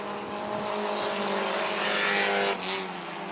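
Race cars roar off turn two down the backstretch in a short oval race, engines building to a loud sustained drone before one car's note drops away as it passes.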